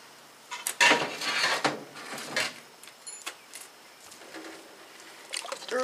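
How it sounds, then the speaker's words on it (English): Black beans, two rinsed and drained cans, being stirred in a metal pot on a rocket stove outdoors, with scraping clinks and knocks in uneven bursts, close and moderately loud. "Stir it all up."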